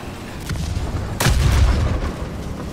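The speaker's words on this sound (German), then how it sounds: "Aber ich finde die Explosion, die finde ich noch nicht schön." A single deep boom rolls out in War Thunder, a tank battle game, with a low rumbling tail. Fainter thuds come before it and the rumble lingers afterward.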